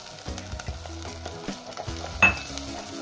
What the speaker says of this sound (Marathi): मसाला हा व्यवस्थितरित्या तळायचा आहे